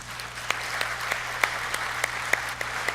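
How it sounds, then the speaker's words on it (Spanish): Audience applause at a church conference, a steady dense patter of clapping with a few sharper claps standing out, over a low steady hum. "Dale un aplauso al Señor."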